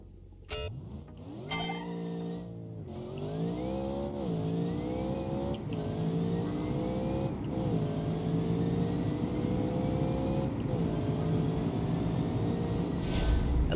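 A Ford F-150 pickup truck with about 1000 horsepower drag races in a video game, its engine revving up through several gear shifts in a loud, continuous rising whine.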